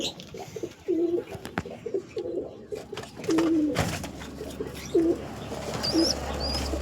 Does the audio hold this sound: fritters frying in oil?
no